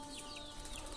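Caged parrots screech and chatter in a busy, continuous jumble of shrill calls for about a second.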